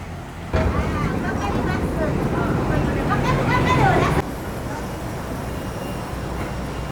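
Ferry boat crossing the river in Bangkok: steady engine and water rumble with wind, a babble of passengers' voices over it for the first few seconds, then a quieter continuous drone.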